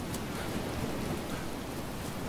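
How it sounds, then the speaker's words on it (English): Steady, even hiss of rain falling in the survival video game DayZ, a constant broadband wash with no talk over it. "sporadic rain."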